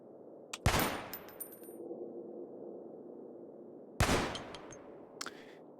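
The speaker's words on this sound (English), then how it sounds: "it took 3 seconds to get a precise shot off at that range" Rifle shots in the survival game Cataclysm: The Last Generation, two sharp loud reports about three seconds apart, each followed by a short metallic rattle and a low sustained hum between them.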